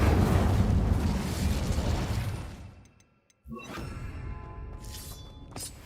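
An Incendio fire spell in Hogwarts Legacy on PS4 erupts in a loud, roaring blast that trails off into a brief hush, then a second burst of crackling magic flares up, with no voices.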